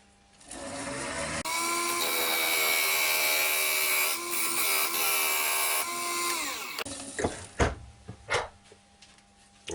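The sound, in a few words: parting tool cutting a mark on ash wood on lathe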